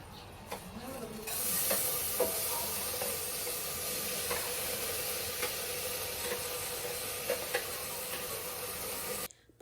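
Washed mung beans go into a pan of sautéing aromatics, a loud, steady sizzle and hiss that flares up as they land, broken by occasional scraping stirs and utensil taps.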